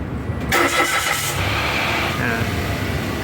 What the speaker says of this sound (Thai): ผมสตาร์ทเครื่องได้เลย